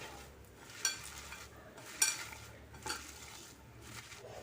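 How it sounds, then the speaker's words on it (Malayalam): Spinach is mixed by hand with turmeric, Kashmiri chilli powder and salt for a Kerala dish, producing soft, quiet rustling and squelching close by, with a few sharp clinks against the bowl and no talk. "ഇനി നമുക്ക് കൈ കൊണ്ട് നല്ല പോലെ ഇതൊന്ന് മിക്സ് ചെയ്തെടുക്കണം"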